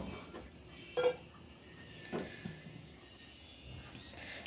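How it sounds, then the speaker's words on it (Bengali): A lid is set onto a cooking pot on a stove as it comes to a boil, giving a sharp metallic clink followed by a second softer clatter against a quiet background. "এবার ঢাকা দিয়ে চুলাটা বন্ধ করে দেবো"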